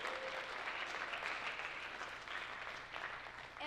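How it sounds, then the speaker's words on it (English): Audience applause at a scholarship program ceremony, a steady wash of many hands clapping together, fairly distant and even throughout with no break. "a big round of applause"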